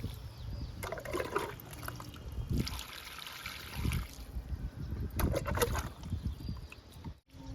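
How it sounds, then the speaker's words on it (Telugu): Water poured onto a young betel leaf plant in a home garden, bursts of splashing and trickling into soil in uneven pulses, close by and without voices. "వాటర్ ఇస్తున్నానండి తమలపాకు మొక్కకి."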